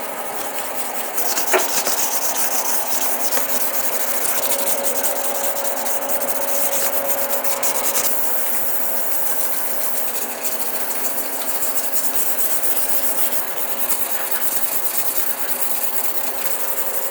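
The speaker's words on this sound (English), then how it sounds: "now let's just get sanding this thing" Door jambs of a 1965 Thunderbird are sanded in a steady, continuous rasping rub that runs unbroken and evenly loud for the whole stretch, with no talking.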